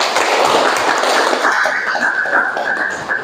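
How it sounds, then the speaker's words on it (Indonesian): Classroom students clap together in a brief burst of applause, loud and close at first and then thinning out over a few seconds, with a faint ringing tone toward the end. "Tepuk tangan."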